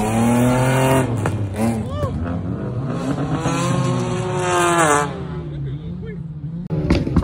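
A Ford Focus at a car meet revs hard, its engine note climbing and dropping through several loud, close pulls, with people chatting excitedly over it and a brief burst at the end.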